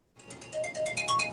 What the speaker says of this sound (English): Sorry, my phone ringing.